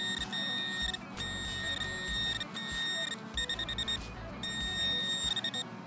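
A metal detector searching for buried coins during an urban coin hunt gives off a steady, loud electronic beeping tone, pulsing in repeated bursts with brief gaps, close by and without speech.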